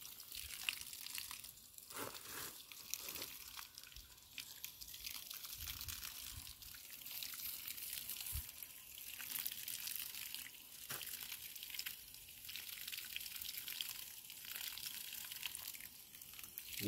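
Continuous hissing spray of water pouring out steadily from a garden pipe under strong pressure, with occasional soft splashes and drips, no voices.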